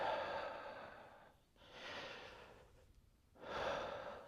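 Slow, deep breaths drawn in and let out during a guided breathing exercise, three long airy exhalations with short pauses between them, close and soft with no talking.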